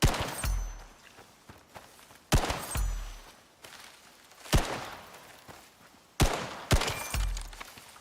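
Gunshots at a shooting-range target course in the survival game Icarus, five or six sharp cracks spaced irregularly over several seconds, each with a short booming tail, close and loud with no talk.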